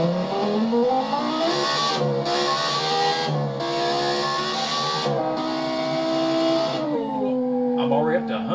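A 2019 Wall Proto race car in the BeamNG driving game accelerates flat out. Its whining engine climbs steeply in pitch, drops at each of several quick gear changes and then rises again, loud and continuous.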